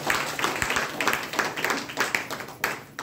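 An audience at a health product seminar claps in a loud, steady burst of applause lasting a few seconds, with dense overlapping hand claps and no pauses.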